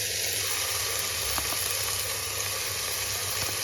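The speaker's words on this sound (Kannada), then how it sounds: "ಇದನ್ನು ಅಷ್ಟೇ ಎಣ್ಣೆ ಬಿಡೋವರೆಗೂ ಫ್ರೈ ಮಾಡ್ಕೋಬೇಕು." Chicken liver with ground masala fries in oil in a pan, giving a steady, loud, close sizzle throughout with no voices.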